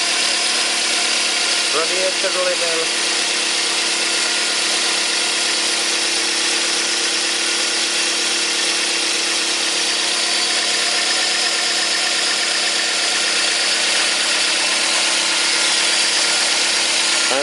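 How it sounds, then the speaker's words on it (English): A Toyota Corolla VVTi engine from around the 2000s idles during a coolant change, producing a constant steady hum and vibration throughout while someone talks over it. "Okay, motor is running"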